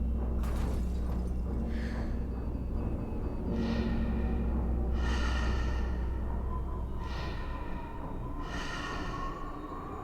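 Slow, heavy breaths in a horror video game's hidden scene, where blood oozes from the screen and walls, come as drawn-out rasping inhales and exhales repeating about every two seconds over a dull, rumbling background.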